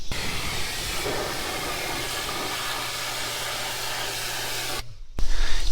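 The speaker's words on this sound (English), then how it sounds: "you can maneuver the pressure washer in here" Pressure washer jet spraying inside a Lexus car interior during mildew removal and deep cleaning, a steady loud hiss running continuously, then a brief drop and a louder burst at the end.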